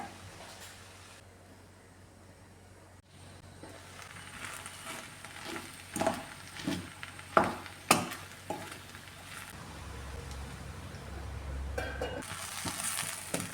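Raw banana thoran frying and being stirred in a pan, with a steady sizzle and scattered scraping clinks of the spoon against the pan, up close and without speech.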